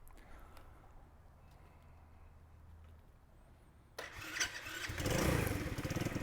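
An XPro 125 cafe motorcycle, unstarted for three weeks, cranks quietly for a few seconds before the small engine catches and rises into a louder, rough idle nearby.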